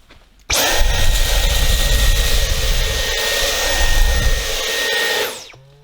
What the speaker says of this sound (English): if you were going to vacuum up some rice that I've spilt on the hob here